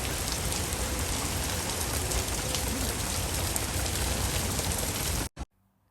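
Heavy rain pours steadily onto a street in Sharjah, a dense, loud, unbroken hiss of drops with no voices, stopping abruptly near the end.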